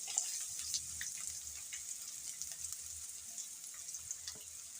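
Chopped onions frying in oil with curry leaves in a pan for bun dosa, a faint, steady crackling sizzle with scattered light pops and a soft clink near the end.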